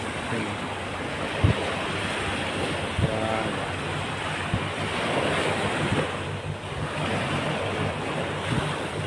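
Steady wash of sea waves with wind buffeting the microphone, a continuous rolling surf that stays fairly loud throughout, with a few low thumps.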